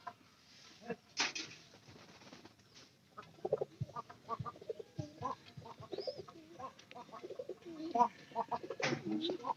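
Pigeons cooing at close range in short, soft, intermittent bursts, with scattered clucks and fluttering in a quiet setting.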